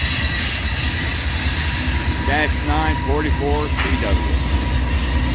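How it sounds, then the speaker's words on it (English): A southbound freight manifest train rumbles past with its rear locomotive, loud and steady, wheels squealing and clacking, while a person speaks briefly over it. "here comes our rear GPU, bringing up the rear on this southbound manifest"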